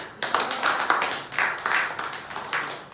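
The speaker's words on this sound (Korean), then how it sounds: "용기 내서 얘기해 주셨는데 박수 한번." An indoor audience at a book talk claps together in a short burst of applause, steady and fairly close, with no speech over it.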